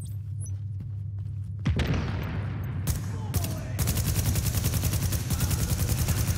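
Enemy AI gunfire in the shooter The Division, a few sharp single shots followed by sustained rapid automatic fire, loud and close over a steady game background.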